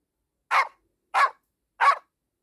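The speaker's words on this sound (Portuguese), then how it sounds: "Já o latido do cachorro é assim." Three short, sharp dog barks in an even rhythm, close by, with silence between them and no other sounds.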